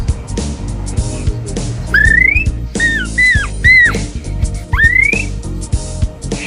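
A child imitates a bird by whistling, giving several short rising, chirping whistles in bursts over steady background noise.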